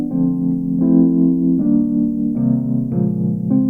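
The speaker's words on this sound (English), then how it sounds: "If I play it soft, it sounds like this." A Wurlitzer 200A electric piano played softly plays a short run of mellow, sustained chords and notes, each change clearly struck. The tone is warm and close with no talking.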